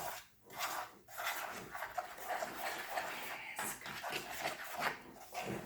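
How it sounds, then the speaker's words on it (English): Shaving cream being stirred and squished into cornstarch gives a continuous gritty, scraping rub with rhythmic strokes, close and fairly quiet. "Just keep stirring and squishing it down into the cornstarch"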